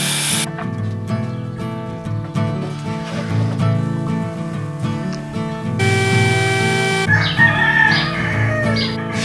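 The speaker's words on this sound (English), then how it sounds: "Shut the heck up, you stinking roosters." Roosters crow repeatedly over a dense, steady bed of layered harmonic tones, with bursts of higher clucking and crowing calls standing out loud and close throughout.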